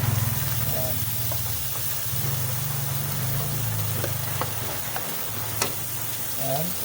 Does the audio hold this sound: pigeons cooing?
no